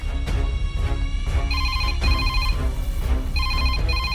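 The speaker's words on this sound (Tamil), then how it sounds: "கொஞ்சம் இருங்க, மேடம் தான் ஃபோன் பண்ணாங்கன்னு நினைக்கிறேன்." A telephone ringtone repeats in regular bursts over a low background hum, clear and fairly close, with no talk over it.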